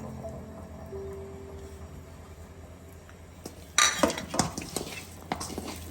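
Chicken pieces shallow-fry in a pan while being turned. A low background hum comes first, then a burst of metal utensil scraping and clinks against the pan, with faint sizzling underneath.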